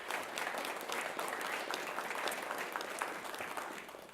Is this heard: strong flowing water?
no